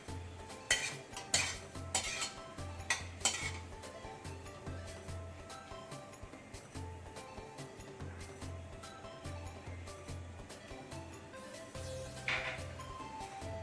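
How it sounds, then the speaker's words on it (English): Red chilies, Szechuan peppers and star anise fry in oil in a pan, a soft continuous sizzle under repeated clinks and scrapes of a metal spoon stirring, close by with no talking. "You need to fry it till it changes color and you can get nice aroma of these"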